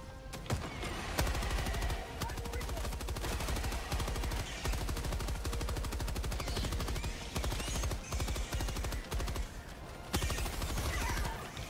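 Sustained automatic fire from an MG-43 machine gun in the Helldivers 2 video game, rapid continuous bursts loud and close with dense battle noise around, running nearly unbroken throughout.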